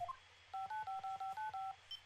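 Cell phone number dialed in the video game Apollo Justice: a run of about nine crisp touch-tone beeps in quick, even succession, clear and close with no talk over them.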